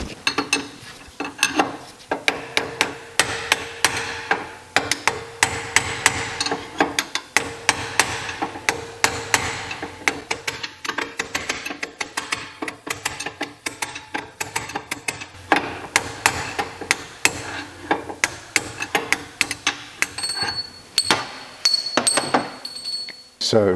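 Metal hammer blows punching out a rear trailing arm bushing on a Porsche 911, a long run of sharp, close, ringing strikes in quick irregular succession.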